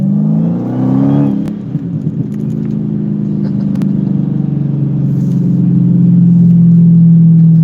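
A car launches hard on a track, its engine revving loud and close, with the tone rising and then holding steady at high revs through the whole stretch.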